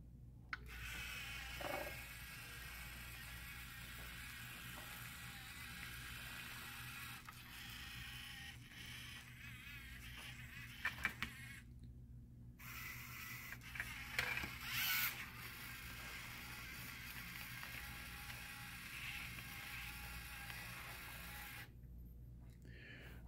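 LEGO robot motors on an FLL competition mission, including a medium motor lifting a pipe, whir and creak faintly and steadily with small gear clicks and ratcheting ticks scattered throughout.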